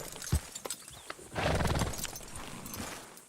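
A horse gallops in Red Dead Redemption 2, with a few scattered hoof thuds at first and then a loud burst of pounding hooves and rushing movement up close. No voices are heard.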